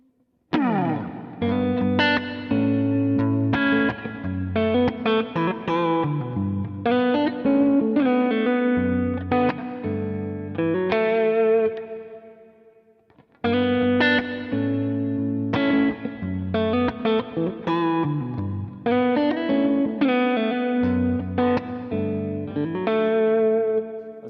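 ESP or Suhr superstrat electric guitar on the neck pickup in single-coil mode, played clean-ish through effects, chords and single notes ringing with chorus shimmer, a brief pause near the middle, then more strummed phrases.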